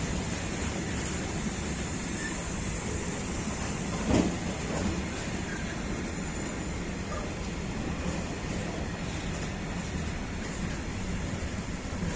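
A train from Chałupki to Katowice rolls past steadily on a single track in freezing weather, a broad continuous rumble and rushing noise with a brief clank partway through.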